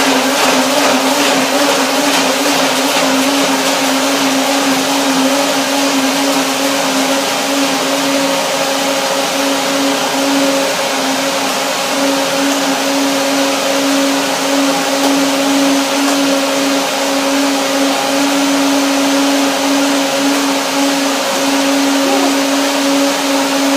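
A blender whirs loudly and steadily, mixing carob with coconut milk in a continuous motor drone with a strong hum, close by and uninterrupted for the whole stretch, with no talking.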